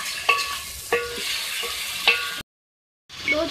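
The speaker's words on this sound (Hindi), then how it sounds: "इसके साथ मैं अच्छी तरीके से इसको फ्राई कर लिया" Ginger garlic paste and yogurt fry in a pan with a soft, continuous sizzle, broken by a few clinks of a stirring spoon, close up, then a short silence before the frying returns.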